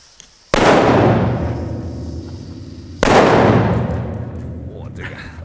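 Two loud firecrackers with fuses explode one after another under a bridge, each a sharp close blast with a long echoing decay, about two and a half seconds apart, the second trailing into faint voices.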